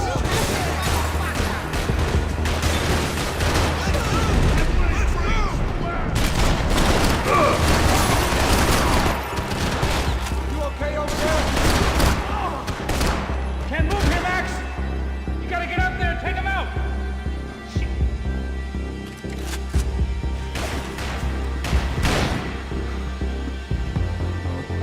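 Gunfire in the video game Max Payne 3: dense bursts of rapid shots and crashing impacts over a steady low drone, loud and sustained throughout, with voices mixed in.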